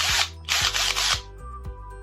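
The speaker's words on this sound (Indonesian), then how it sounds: "Ini saya kebetulan di rumah punya bor listrik ya" An electric drill fitted as a mixer stirs liquid detergent made from used cooking oil, whirring up in three close bursts and then running lower with clicks and knocks.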